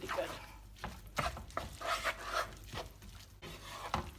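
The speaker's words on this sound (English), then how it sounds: "See, it's getting to a nice cream sauce just from the eggs. You can hear it squishing." Cooked pasta is tossed by hand through an egg-based cream sauce, making soft, wet squishing and stirring sounds in irregular bursts, close by and fairly quiet.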